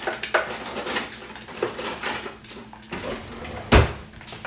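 Utensil scraping and tapping against a frying pan while egg yolks are broken, with clattering pan and cutlery knocks, a louder clank near the end, close and uneven, no talk.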